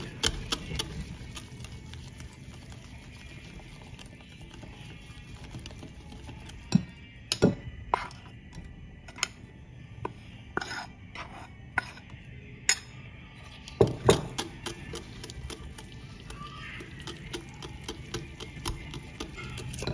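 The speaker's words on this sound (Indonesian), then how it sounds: "Lalu ini diaduk terus sampai betul-betul tercampur merata." A spoon works through flour batter in a bowl, giving irregular clinks and scrapes against the bowl over a steady background hiss, with bursts of rapid tapping in the middle.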